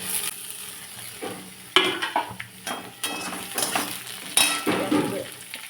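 Tomato goes into a pan of frying chili, onion and radish, followed by repeated spoon scrapes and clinks against the pan over a light sizzle, close and fairly loud.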